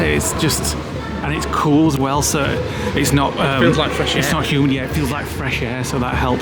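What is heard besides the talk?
None of the usual background noises is heard.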